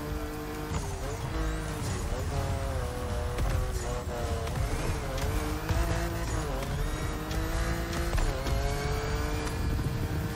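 A 2016 Ford Focus RS racing engine in the video game The Crew roars continuously, revving up and down through gear changes with tire squeal under steady loud drive.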